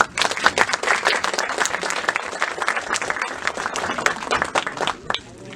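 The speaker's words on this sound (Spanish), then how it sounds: "Pido un aplauso, por favor." An audience at a law lecture on constitutional reform applauds, a full steady round of clapping that tapers off at the end, with a voice faintly beneath.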